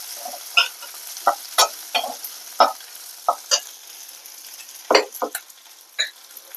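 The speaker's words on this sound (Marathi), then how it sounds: "ह्याच्यातच भाजून घ्यायचं. नंतर हे काजू आणि मगज" Cashews and melon seeds roast in a pan for paneer kofta gravy, giving soft scattered stirring scrapes and light rattles at irregular intervals over a faint background hiss, with no talking.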